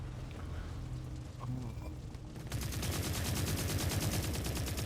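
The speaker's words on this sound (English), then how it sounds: "I hate the sound of all the gunfire." Rapid, continuous automatic gunfire in a video game rattles loudly and steadily through the second half, after a stretch of noisy, muffled background.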